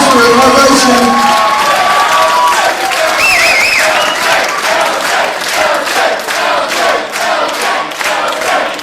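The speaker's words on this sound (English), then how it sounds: "the crowd is giving Joshua an ovation" A wrestling crowd at an independent show gives a wrestler a loud, sustained ovation. Dense applause and cheering fill the whole stretch, with shouts and whistles rising out of the crowd noise.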